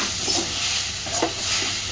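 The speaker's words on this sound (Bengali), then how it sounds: "খুব সুন্দরভাবে কচু পাতাটাকে ভাজা হয়ে গেছে কড়াইতেও একদম লেগে লেগে যাচ্ছে" Taro leaves frying dry in a wok, a continuous soft sizzle with scraping stir strokes against the pan, close up and without voices.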